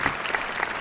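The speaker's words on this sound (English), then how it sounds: "Let's give the judges a round of applause and show them our appreciation" A conference audience applauds the judges at a national elevator pitch competition final, a dense burst of clapping heard in a brief snippet.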